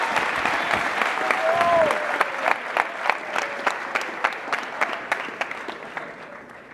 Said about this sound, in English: Please join me in a round of applause for Mr. Swider.